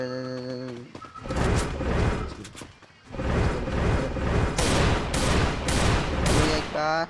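Dense bursts of rapid gunfire crackle and rattle nearly throughout in the game Free Fire, with brief lulls, over game music and sound effects.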